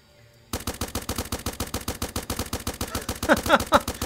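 Steady, rapid automatic gunfire from a gun in the Starbound video game begins abruptly and runs without pause, each shot a punchy, evenly spaced pulse, with a few brief higher tones mixed in near the end.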